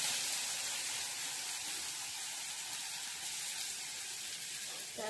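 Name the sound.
onion frying in hot oil for masala Maggi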